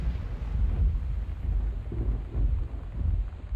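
Rolling thunder from a storm in the video game Gone Home, a low, continuous rumble that swells and fades in waves with no voices over it.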